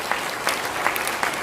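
A church congregation applauds during a Korean Presbyterian ordination and retirement service, steady clapping filling the room throughout the short stretch.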